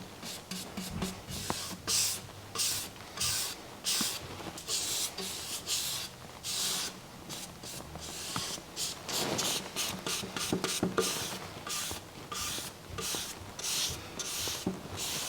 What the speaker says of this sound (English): I actually paint them in the opposite direction on the second coat.